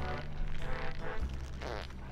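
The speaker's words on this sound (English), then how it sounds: "I love the constant fart noises." Short squelchy fart noises from the Conker's Bad Fur Day video game, two or three quick raspy bursts close up, with no talk over them.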